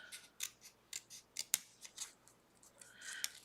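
Scissors snip through scraps of Cricut Infusible Ink sheet in about a dozen quick, irregular crisp cuts, close and fairly quiet, with no talking.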